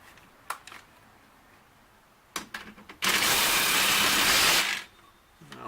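A ratchet works a bolt on a coilover during a suspension install: a few sharp clicks, then a loud, continuous buzzing rattle of rapid ratcheting for about two seconds before stopping, followed by light clicks.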